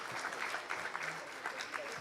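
Brief applause from a conference audience at a global economic policy forum, moderate and somewhat uneven clapping heard for about two seconds.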